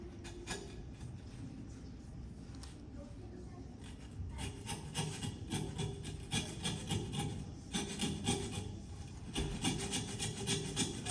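A hand saw cuts through hog ribs during butchery, with steady back-and-forth rasping strokes that grow louder and denser toward the end, close by.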